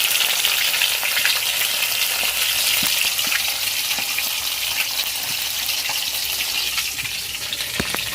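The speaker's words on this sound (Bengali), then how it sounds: "মাছটা ভেজে নেব।" Fish sizzles steadily in hot oil in a kadai, a dense, loud hiss that continues unbroken for several seconds with faint scattered pops and no voices.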